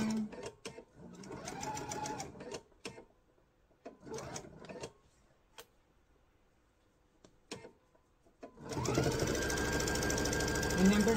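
A sewing machine stitches a patchwork quilt block seam in bursts of rapid rhythmic stitching broken by pauses, ending in a loud sustained run; a person talks over parts of it.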